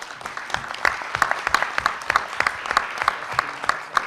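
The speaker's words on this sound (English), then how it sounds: "Thank you, and a round of applause," Applause from a forum audience welcoming an automotive executive onto the stage at an awards event, with sparse, distinct individual claps forming a steady, moderately loud patter throughout.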